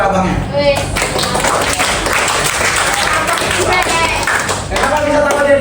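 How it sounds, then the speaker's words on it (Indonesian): A classroom group claps hands during an open class on artificial intelligence, a dense, steady patter of many hands close by, with voices mixed in throughout. "Tugas tepuk tangan buat abangnya."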